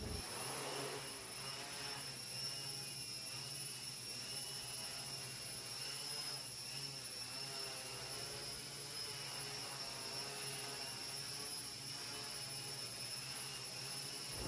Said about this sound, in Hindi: तो चलिए अब इस ड्रोन को उड़ा के देखते हैं।